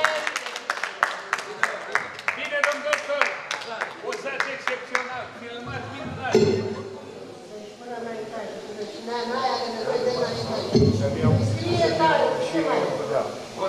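Audience at a symposium in Morunglav clapping at the start, a burst of hand claps that fades under a man's ongoing speech.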